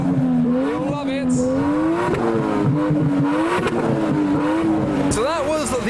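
A Toyota Chaser revs hard in a rev-off at a Japanese car show, the engine holding a high wavering drone that climbs and sags, with crowd voices and cheering mixed in around it.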